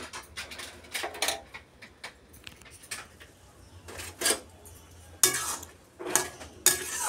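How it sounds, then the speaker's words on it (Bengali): Ghee and garam masala being stirred into cooked chana dal with coconut, a spoon scraping and clinking against the pot in short bursts, a few louder scrapes near the end, with no talk. "এর মধ্যে একটু ঘি, একটু গরম মশলা মিশিয়ে দিলাম"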